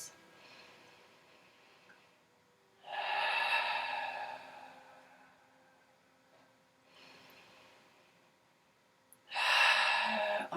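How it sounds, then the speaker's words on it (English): Deep breaths taken during neck and shoulder stretching: two long, clear breath sounds a few seconds apart, separated by quiet stretches with faint background hum. "Take a few more breaths."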